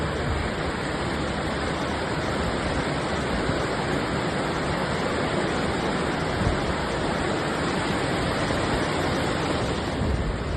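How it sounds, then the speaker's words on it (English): Floodwater rushing through Valencia streets like a small river after a historic storm, a loud, steady broadband roar of churning water that holds constant throughout with no voices. "So that is a tiny little river now."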